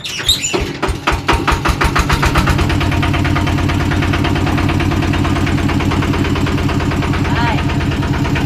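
A car engine cranks with a few rapid turning bursts, catches, and settles into a loud, steady idle with a throbbing, even rhythm, heard up close.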